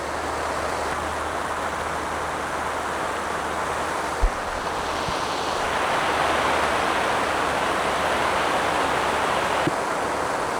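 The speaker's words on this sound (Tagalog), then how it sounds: "Guys, sobrang lakas talaga ng ulan. May kasama pang hangin." Steady, dense hiss of heavy rain mixed with gusting wind in the mountains, loud and constant, with a few faint knocks and no voices.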